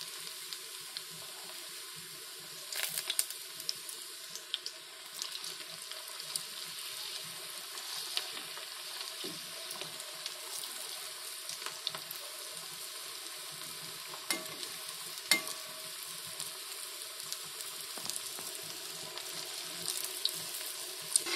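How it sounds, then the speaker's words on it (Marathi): Aloo paneer kofta balls fry in hot oil with a steady, moderately quiet sizzle and bubbling, punctuated by occasional light clinks and scrapes of a utensil, with no talking. "चांगले गोल्डन ब्राऊन होईपर्यंत तळायचे।"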